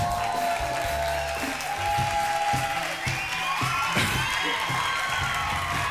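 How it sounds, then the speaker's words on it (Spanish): A studio audience at a comedy variety show claps and cheers loudly, with whoops and shouts rising over a dense, continuous wash of applause that fills the room. "Recibamos con un fuerte aplauso a la Mofle."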